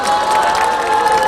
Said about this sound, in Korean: 격려의 박수 부탁드리겠습니다